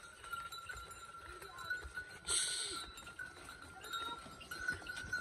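A goat gives a single short, nasal bleat near the middle, set against faint outdoor background noise and a thin steady whine.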